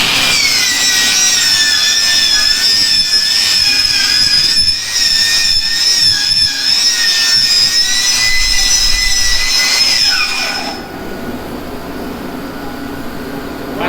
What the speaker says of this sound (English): we just got a wire wheel on a die grinder